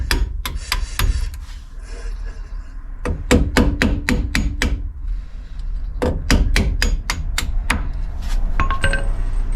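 Sharp metallic taps as a broken drill bit is used to tap out parts, in quick bursts, a handful of hits at a time separated by short pauses, close and loud with a faint hum underneath.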